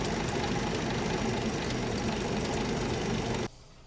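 A pre-war Rolls-Royce engine idles after a cold start, a steady low rumble with an even, rapid beat, loud and close. It cuts off abruptly near the end, leaving a quiet background.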